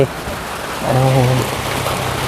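Rain falling outdoors on a wet day, a constant broad hiss throughout, with a brief tonal voice-like sound in the middle rising over the steady downpour.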